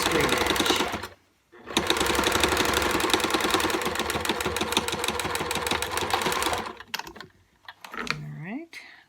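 Sewing machine running a straight 1/4-inch edge seam to finish a fabric Olson face mask, a steady rapid stitching rattle for about five seconds that stops abruptly, followed by faint handling noises.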